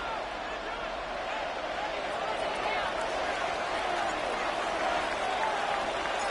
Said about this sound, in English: The crowd, as usual, firing up.